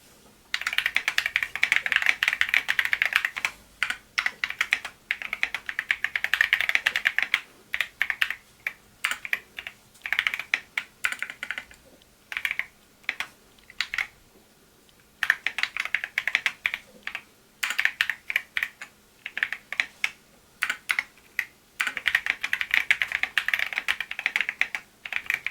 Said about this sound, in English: So keeping in mind that these are banana switches, that's going to be the sound that you should expect